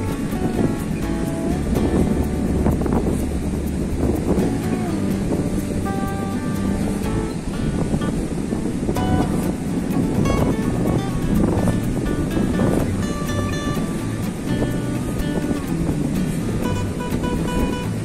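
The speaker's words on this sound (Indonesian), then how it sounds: "Pantainya panjang banget, sepi." Waves and wind on Watunene beach in Gunungkidul, a long, quiet sandy shore, with steady loud surf and gusting wind buffeting the microphone throughout.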